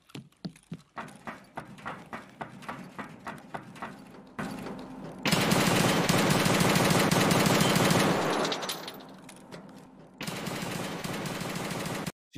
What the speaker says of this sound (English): You don't let Sinner take shots with the M1A.